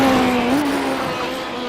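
A roadster race car charges up a mountain course, its engine holding a steady, buzzing high note with a slight pitch rise, loud and close for a brief moment.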